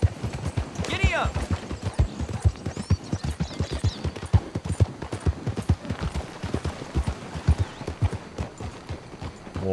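A horse gallops in Red Dead Redemption 2, with quick rhythmic hoofbeats thudding close and steady over the whole stretch, accompanied by other game sounds.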